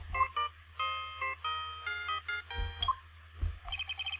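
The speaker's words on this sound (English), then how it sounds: "The phone that just rang wasn't mine." A phone ringtone in the Ace Attorney video game plays the Steel Samurai theme song, a bright electronic melody of short repeated notes over a low steady hum, close and alone.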